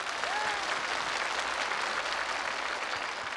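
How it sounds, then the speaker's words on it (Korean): An audience at a one-man comedy show applauds after an impression, a steady dense wash of clapping from a sizable crowd that stays even and continuous throughout. "박수 한번 주세요. 박수 한번."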